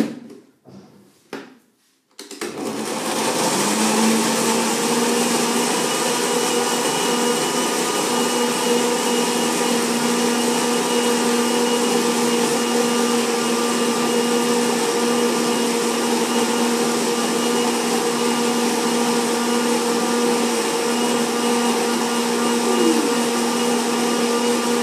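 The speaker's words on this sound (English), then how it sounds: "So now I blend it." A blender whirs continuously on a steady drone, blending fruit for a mango banana coconut bowl. It starts after a few brief clunks and runs loud and unbroken throughout.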